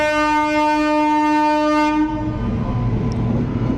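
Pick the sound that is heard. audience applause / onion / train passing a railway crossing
train passing a railway crossing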